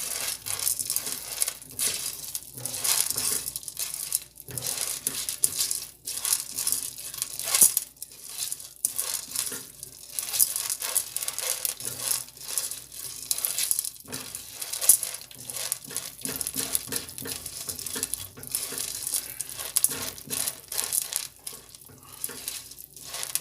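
Steady rustling and light sizzling from a pan as popcorn is stirred, with scattered clicks and scrapes throughout, no voices.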